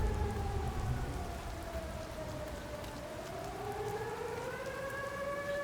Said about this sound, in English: That is an air raid siren.